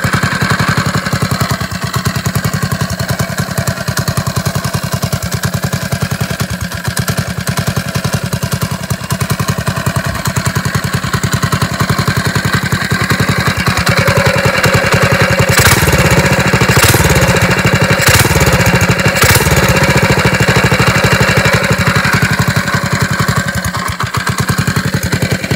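A 99cc Coleman small engine runs steadily with an RLV Mini 91 slip-on silencer, a loud, close, even drone with rapid firing pulses, revving briefly several times partway through.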